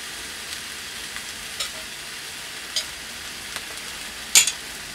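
Bread slices sizzle steadily in a hot pan for a meat sandwich, a soft continuous crackle broken by a few sharp pops and one louder spatter near the end, close and with no voices.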